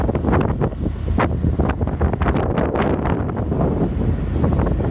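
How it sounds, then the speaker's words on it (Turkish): Loud, blustery wind roars against the microphone in continuous buffeting gusts at Şahin Kayası summit near Vezirköprü, Turkey, with a low rumble underneath and no voices. "Duyabiliyorsanız tabii rüzgarı."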